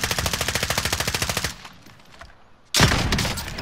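Rapid automatic gunfire in a video game rattles loud and close in a fast even burst for about a second and a half, then goes quiet before another loud burst of shots breaks in.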